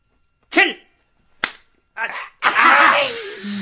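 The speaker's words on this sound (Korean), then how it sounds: "너 지금 판에서 박수 쳤어" Sharp slaps or hand claps ring out during a Korean 369 clapping game: three separate smacks spaced about a second apart, then a burst of laughing voices and noise.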